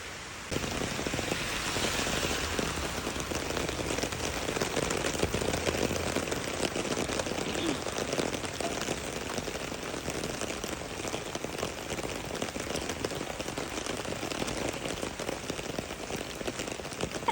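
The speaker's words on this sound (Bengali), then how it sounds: "ওই বৃষ্টির মধ্যে যেতে হবে কিচ্ছু করার নেই" Steady morning rain falls continuously on outdoor surfaces, an even, dense hiss and patter that stays constant throughout with no talking.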